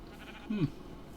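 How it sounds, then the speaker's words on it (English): A single short sheep bleat from the Minecraft video game sounds faintly at mid-distance over a quiet background. "A lot of sheep around here."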